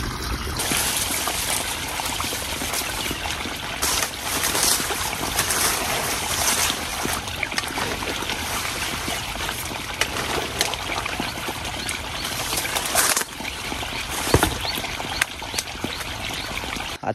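Irrigation water pours into a sugarcane field with a steady, close, rushing hiss that holds evenly throughout, with no talking.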